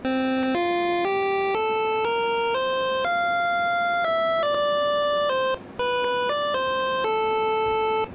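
Famicom-style chiptune synthesizer playing the Dragon Quest overture melody, bright square-wave tones stepping through a rising phrase of distinct notes, loud and clean with a brief gap near the end.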